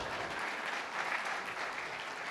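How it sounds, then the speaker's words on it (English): An audience at a talk for teachers claps together, a soft, even wash of applause heard from a distance and sustained throughout. "That's a way to get a clap for yourself."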